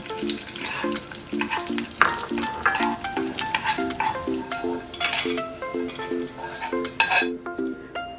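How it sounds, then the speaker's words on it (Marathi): Chopped dry fruits fry in ghee in a pan, giving a continuous close sizzle. A spoon stirs and scrapes against the metal in a regular rhythm of clinks, with no voices. "ड्रायफ्रूट येथे मी कापून घेतलेली आहेत, ती पण तुपामध्ये फ्राय करून घ्यायची आहेत"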